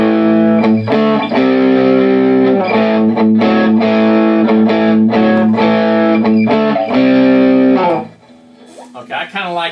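Heavily distorted electric guitar through an MXR 78 Badass Distortion pedal turned up to about 3 o'clock, Fender Strat into a Peavey Classic 30 amp, with steady loud chord riffing for eight seconds, then a quieter trailing phrase.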